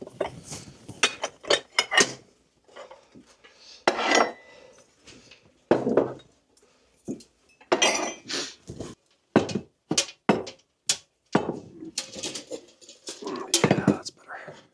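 Dishes and cutlery clink and clatter in bursts as they are put away in a frozen cabin, irregular close knocks and chinks with soft whispering in between.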